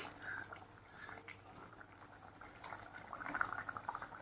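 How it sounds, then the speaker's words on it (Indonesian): Tongseng goat offal stew bubbles in a pot with soy sauce added, a faint, soft burble of popping bubbles that grows slightly busier toward the end. "Kita rebus kembali."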